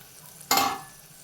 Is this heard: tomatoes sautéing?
yes